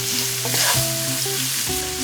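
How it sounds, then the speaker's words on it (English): Chopped onion sautés in oil with turmeric, a loud close sizzle with stirring scrapes and a brief rise in crackle as the onion hits the hot pan, no talk. "And then add your chopped onion."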